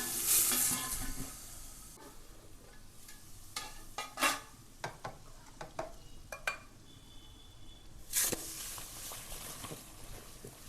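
Hot spiced tempering of dried red chillies, curry leaves and asafoetida is poured into urad dal for dosa, giving loud hissing sizzle bursts and stirring clatter that fade between sharp flare-ups, with no talking.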